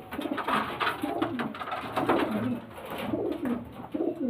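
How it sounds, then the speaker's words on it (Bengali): Domestic pigeons at a loft, including a female, give repeated low throaty coos in a steady rhythmic series, close by and fairly loud, with no talking. "এটা মাদা পায়রা।"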